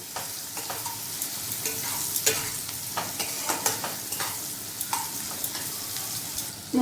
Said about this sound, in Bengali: দেখুন, আমি ভালোভাবে নাড়তে থাকবো কিছুক্ষণ ধরে, সময় ধরে ভাজতে হবে